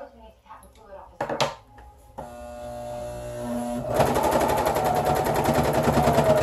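A home sewing machine stitches a cloth maxi pad, a rapid mechanical chatter that starts after a few clicks and handling sounds, first lighter then louder and faster with a steady pulsing rhythm.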